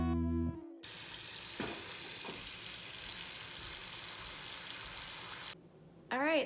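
Water runs steadily from a kitchen tap while dishes are washed, a constant hiss lasting several seconds with a faint clink or two, ending abruptly before a brief tonal sound.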